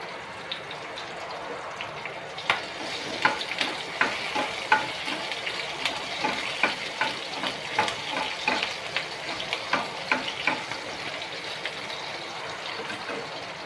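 Garlic roasting in a pan with chillies for dry spinach bhaji, a low steady sizzle with frequent light stirring scrapes and taps throughout.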